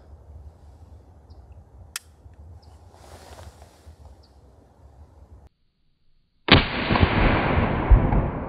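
Sawn-off rifle fired outdoors: an early sharp crack, then after a moment of silence a loud, close blast followed by a long rumbling tail.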